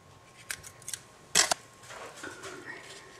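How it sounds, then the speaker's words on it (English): Scissors trim excess paper from a handmade card: a few quick snips close to the microphone, then a sharper burst of two cuts, followed by quiet handling rustle. "Cut off the excess."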